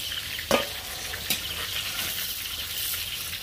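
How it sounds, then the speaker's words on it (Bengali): Pieces of pointed gourd (potol) sizzle in mustard oil, a steady close frying crackle with two sharp clacks of a spatula stirring the pan. "পটলটা হালকা ভাজা হয়ে এসেছে, আর একটু লাল লাল ভাজতে হবে।"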